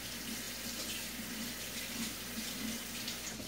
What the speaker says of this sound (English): Let them foam up a little bit, give them one more rinse.